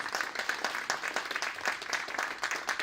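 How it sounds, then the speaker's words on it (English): An event audience claps for a tech panel, moderately quiet but steady applause from a modest crowd, sustained without talk. "Please give a round of applause to our panelists."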